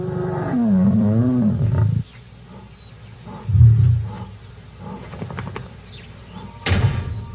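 Lions in the African wild give a deep, loud roar that rises and falls, then low grunting roars follow in short bursts with quieter gaps between them.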